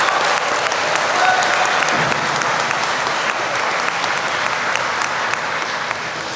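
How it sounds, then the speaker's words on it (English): An auditorium audience at a school convocation applauds staff and faculty with sustained, dense clapping that fills the room evenly from start to finish, with no voices over it. "Let's give them a round of applause."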